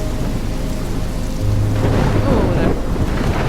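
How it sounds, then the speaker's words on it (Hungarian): Thunderstorm in the video game Life is Strange, with steady loud rain and a deep rolling thunder rumble building midway, no talking over it. "Eléggé rémisztő ez a vihar."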